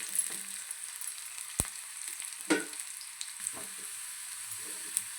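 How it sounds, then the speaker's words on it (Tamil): Small onions sizzle in oil for mutton paya, a quieter steady crackle with a few isolated spatula taps and scrapes against the pan. "நல்லா சின்ன வெங்காயம் பொன்னிறமாக வதக்கிட்டு நம்ம தாளித்து கொட்டினோம்னா"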